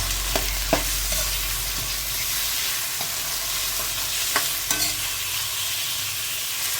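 Chicken marinated in soy sauce and pepper stir-frying in a pan: a steady loud sizzle fills the whole stretch, with scattered scrapes and taps as the pieces are stirred, and no talking.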